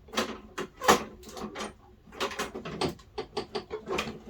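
On a Husqvarna all-wheel-drive lawnmower being fitted with new wheels, the wheel drive makes close, irregular mechanical clicks and ratcheting rattles as it grabs and locks.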